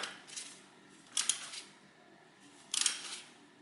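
A socket wrench tightening a bolt during timing belt replacement on a 1992–2005 Honda Civic, with two quick bursts of metallic ratchet clicks, close and fairly quiet, separated by a pause.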